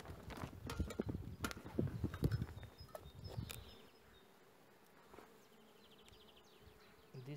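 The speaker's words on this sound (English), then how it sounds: "It's just full of bees also outside the nest." Honeybees buzz around a hive, a dense droning hum with scattered knocks and handling noise early, then a quieter lingering buzz.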